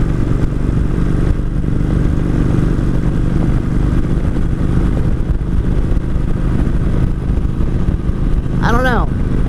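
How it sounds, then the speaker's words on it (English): A 2003 Kawasaki Vulcan 1600 motorcycle with a slipping clutch runs on the road, its engine drone steady and loud alongside wind rumble throughout, with a brief rising whine near the end. "I think we have a clutch slip problem."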